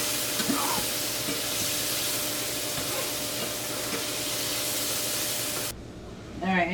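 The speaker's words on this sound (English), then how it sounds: "So I'm going to fry up the sausage here." Sausage frying in a pan for a sausage and cabbage dinner, a steady broad sizzle and crackle that cuts off abruptly near the end, followed by a brief voice.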